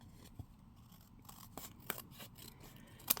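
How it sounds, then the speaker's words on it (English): Paper snips clip through cardstock edges in a few short, crisp snips spread across a quiet craft-table setting, each cut sharp and close. "I am going to grab my paper snips, turn it over to the back, and snip those edges off."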